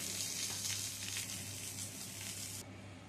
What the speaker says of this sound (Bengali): পটল আর আলুগুলো ভেজে নেব।